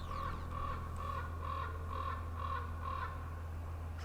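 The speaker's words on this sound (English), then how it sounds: "So I've got these crows all ravens all fired up" Crows or ravens caw in a steady run of about seven evenly spaced calls at dawn in a hunting setting, moderately distant over a constant low hum.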